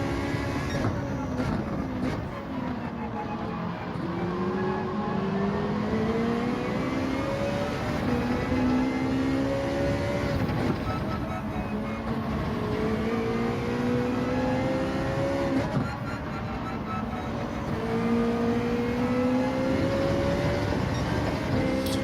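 Ferrari 458 engine in Gran Turismo 7 drones steadily through the whole stretch, its pitch climbing and dropping in repeated sweeps as it revs through gears, with tyres sliding a bit, loud and continuous with no talk.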